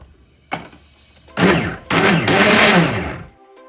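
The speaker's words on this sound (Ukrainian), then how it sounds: "Я також їх буду подрібнювати в цьому блендері" A blender chopping boiled eggs, whirring close up in bursts: a quick pulse, then two longer runs that rev up and wind down, with no voices.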